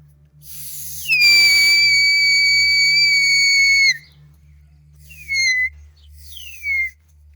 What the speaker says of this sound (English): It's much harder to blow the new whistle,